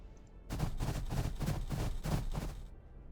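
Guardsmen open fire in Warhammer 40,000: Battlesector, a rapid burst of gunshots packed into about two seconds, loud and close, with no talk over it.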